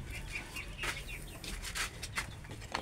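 Free-range Rhode Island Red chickens and newly hatched chicks in a backyard farm grower house give a few faint clucks and short chirps with some wing flapping and rustling, moderately close.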